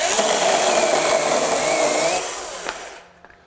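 A DEWALT 8-inch cordless pruning saw with a PowerStack 5Ah battery cuts with a loud, steady buzzing whine that winds down and stops near the end, followed by a couple of small knocks.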